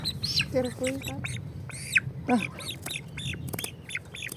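Farmyard geese honk and squawk in short, close bursts, several calls overlapping with quieter gaps between them, over a low background rumble.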